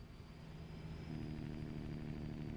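Truck engine idling as the rig rolls downhill in a truck simulator game, a steady low rumble with a faint whine, holding constant and slightly swelling partway through, with no talk.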